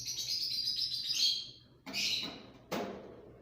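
Lovebirds in a breeding cage give a run of shrill chirps, then a few sharp separate calls, close and clear against a quiet room.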